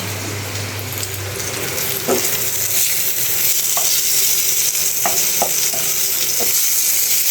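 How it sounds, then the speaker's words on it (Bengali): Kakrol (spiny gourd) sizzles in a frying pan, with utensil scrapes and clicks as it is stirred and moved near the end. "আমার কাঁকরোল ভাজা হইতেছে।"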